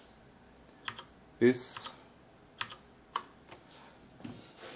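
Keys on a Cherry MX Board 6.0 keyboard are pressed in scattered, separate clicks, one louder clack among them, close-up with a person talking quietly.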